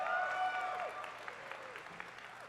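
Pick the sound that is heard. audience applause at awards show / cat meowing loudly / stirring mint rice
audience applause at awards show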